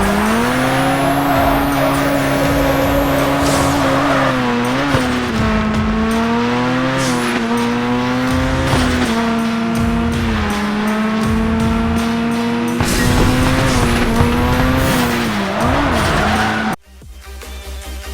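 Race cars in a mobile racing video game: a loud, continuous engine whine that rises and falls through gear changes, with repeated bursts of tire squeal and skidding, ending in an abrupt cut.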